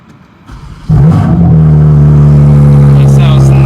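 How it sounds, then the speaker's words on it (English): A 2025 BMW M4 CS with an aftermarket exhaust, valves open and set to M1, revs up hard after a quiet start, then holds a loud, deep, steady drone close by. "I opened up the valves, put it in M1. This thing should sound crazy."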